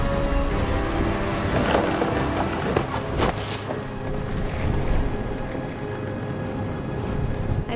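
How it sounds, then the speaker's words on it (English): A thunderstorm in the video game What Remains of Edith Finch pours heavy, steady rain while deep rumbles of thunder roll through, loud and close, a dense wash of sound with no talking. "Thunder sounded much too close and full of angry power."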